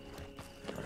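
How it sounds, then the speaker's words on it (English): Hooves clip-clop in an uneven rhythm as local horses walk nearby, a brief burst of hollow knocks over soft background noise. "Look at these horses."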